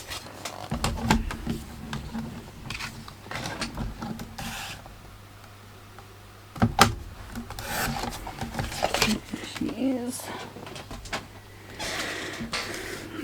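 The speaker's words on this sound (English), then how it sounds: "So let's just bring that trimmer back in." A paper trimmer slices across a sheet of craft card with scraping, rasping strokes, with a sharper burst of cutting midway, close and fairly loud over a low steady hum.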